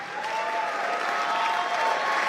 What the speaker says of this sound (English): Can you just give yourself a really big hand clap?